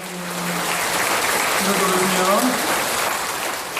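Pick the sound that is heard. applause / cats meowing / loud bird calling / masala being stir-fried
applause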